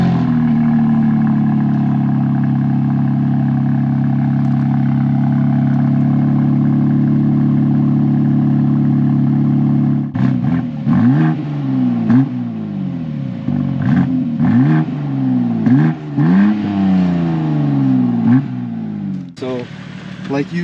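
A 2024 BMW M2 (G87) engine idles with a steady low hum, then revs up and down repeatedly in sharp surges, loud and close, with a brief voice near the end.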